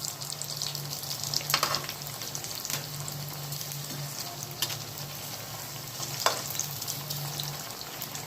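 Poha vadi, flattened-rice fritters, fry in hot oil on medium heat with a steady, dense sizzle and crackle, broken by a few brief clinks and stirring scrapes, close up and without speech.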